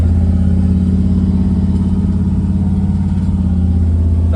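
A car engine runs loud and close with a steady low rumble and slight revving as the car pulls out, with no talking over it.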